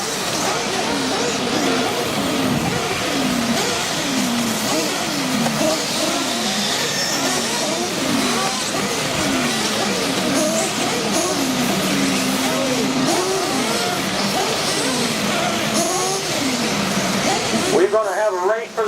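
Electric RC off-road buggies race on a dirt track, their whining motors rising and falling in rapid overlapping sweeps as they pass, continuous and fairly loud, with a race announcer talking over the action.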